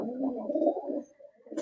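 A Murshidabadi pigeon gives a low, rolling coo that lasts about a second, close and clear, then goes quiet.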